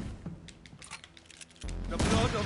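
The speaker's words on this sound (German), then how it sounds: "So, die erste Kanone habe ich leer geschossen." Gunfire from a firearm in the Vampyr video game, a string of sharp shots crackling through the first stretch before a louder, denser burst of blasts near the end.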